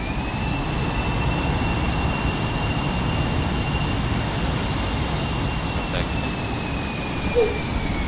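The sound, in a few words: jet aircraft taxiing in a flight simulator video game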